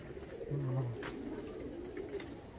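A short, close coo from an Andhra high flying pigeon in a loft, one low rolling call standing out over a soft murmur of other birds.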